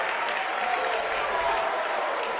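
A crowd at a girls' tournament basketball game between Bryan and Copley reacts to a foul call with a sustained, steady roar of voices and clapping filling the gym.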